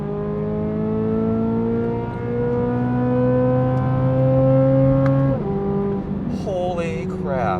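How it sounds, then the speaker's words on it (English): A C8 Corvette Z06 engine revs up to redline, its loud rising tone climbing steadily for several seconds before dropping sharply as the revs fall away, heard from inside the car. "That was just like a gentle run to red line."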